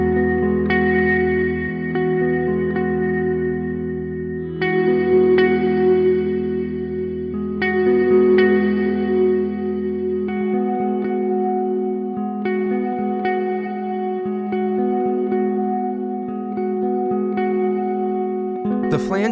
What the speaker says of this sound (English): This freezes the filter's movement and gives you a newly EQ'd reverb.